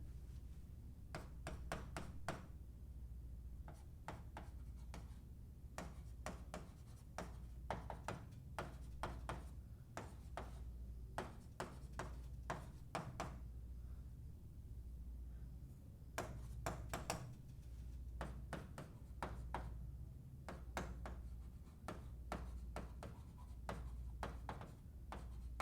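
Chalk or marker writing on a board while working a math problem, a steady series of quick, close strokes and taps in bursts with short pauses, faint and continuous with no speech.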